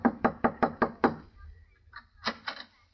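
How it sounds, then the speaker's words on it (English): Six sharp knocks on a wooden door in a quick, even rhythm, followed by a short pause and a few faint rustling sounds. "knock on the door"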